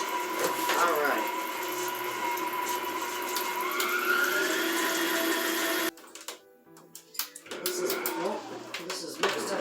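An electric mixer creams sugar cookie dough in a bowl, a steady close whine that rises in pitch as the speed goes up, then cuts out and restarts, with a voice talking over it.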